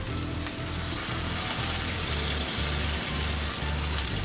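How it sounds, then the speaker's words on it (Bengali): Hot water goes into a pan of chicken and papaya curry after the papaya's liquid has dried out, and the loud steady sizzle swells into a broad, close hissing rush. "এই পর্যায়ে আমি ঢেলে দিলাম গরম পানি।"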